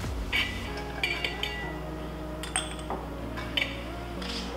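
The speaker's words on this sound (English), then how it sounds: "Third way of drinking whiskey is to add 1 ice cube to cool your whiskey." A single ice cube drops into a glass of Scotch whisky, producing bright glassy clinks and rings, several light taps spread across the moment, close and clear over a quiet room.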